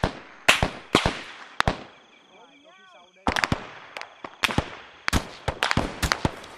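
Sharp, separate gunshots ring out in ARMA III S.O.G. Prairie Fire, fired singly and in quick clusters with a quiet gap midway, crisp and fairly near.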